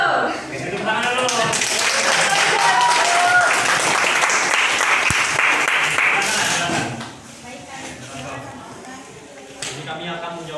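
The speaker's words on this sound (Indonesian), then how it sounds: "tepuk tangan dulu" A classroom group bursts into loud, dense clapping that holds steady for several seconds, then fades to scattered claps as students start talking.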